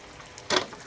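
Overflow water from a home tank spills through a pipe into a bottle, giving one short splashing gush of running water in the middle of an otherwise quiet stretch.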